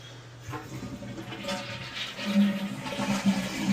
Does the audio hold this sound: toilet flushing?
yes